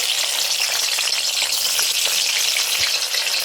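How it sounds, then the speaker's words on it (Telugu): Onion pieces fry in hot oil for a drumstick masala curry, giving a steady, dense sizzle that runs unbroken throughout at close range with no voices. "ఆయిల్ వేడెక్కిందండి. ఉల్లిపాయ ముక్కలు"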